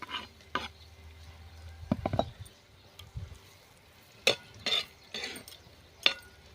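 Onion and garlic frying in hot oil in a pan for a wild monsoon vegetable dish, with a faint sizzle under sharp spoon scrapes and metallic clinks of stirring, a few louder strokes against the pot, no talking.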